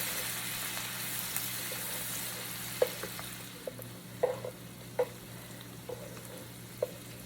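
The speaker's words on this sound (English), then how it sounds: "so now I'm going to add my garlic" Garlic sizzles in a pan over medium-low heat as a side of Southern fried cabbage with bacon gets started, giving a steady soft frying hiss with scattered small pops and crackles and no voices.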